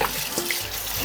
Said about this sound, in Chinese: 这个鸡呢里面带有血水，我们把鸡放在水里